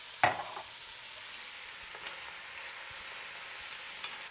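Frittata filling of turkey cheddar brat and beans sizzling in a stovetop pan with garlic powder and smoked paprika, a steady close frying hiss opening with a brief clatter of stirring.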